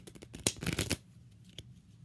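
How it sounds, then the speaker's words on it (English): Playing cards shuffled by hand in a quick overhand shuffle, a close, soft burst of riffling flicks that stops after about a second, followed by a faint tap. "I'll just do a little normal shuffle."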